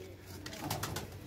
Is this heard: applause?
no